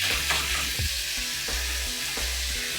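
Steak searing in a hot oiled pan, giving a steady close sizzle with a few louder crackles and no talking.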